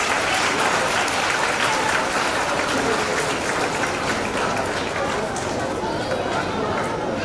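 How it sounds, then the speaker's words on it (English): Audience applause for the Class 2 winners at a school science expo, a steady, dense wash of clapping from a crowd that holds for the whole stretch with faint chatter mixed in. "Give them a round sound of applause, please"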